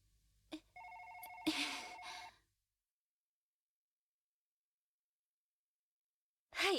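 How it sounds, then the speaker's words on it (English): A telephone rings in the Policenauts video game, one short electronic ringing burst that stops abruptly, followed by silence and a brief voice at the end. "さ、電話だ。"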